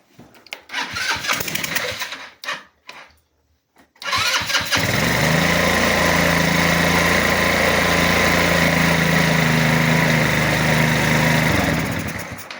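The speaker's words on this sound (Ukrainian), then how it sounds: "Скутер працює." A small scooter engine with an ignition fault sputters in short bursts, goes quiet, then catches and runs at a steady buzzing idle close by for several seconds.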